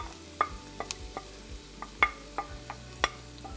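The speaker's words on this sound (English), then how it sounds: "we're going to saute this until everything gets soft" Bell pepper and green onion sautéing in a pan for a Louisiana crawfish pie, a soft low sizzle broken by sharp clicks of a utensil stirring against the pan, close and quiet.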